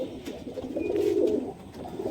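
Desi high-flying pigeons coo in a soft, repeated low murmur, fairly close and steady, with no talking over it.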